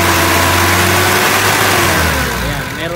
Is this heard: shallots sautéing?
no